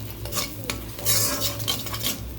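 Hibiscus flowers heating in coconut oil in an iron pan while being stirred, a gentle sizzle overlaid with repeated scraping and rustling strokes of a spoon, close and fairly loud.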